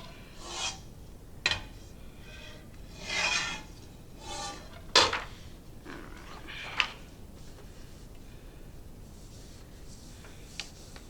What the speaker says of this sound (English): I'm rubbing my finger along the edge to make sure that I get that imprint